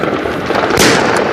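Fireworks going off outdoors on New Year's Eve in Denmark, a dense loud crackling rumble with one sharp burst near the end.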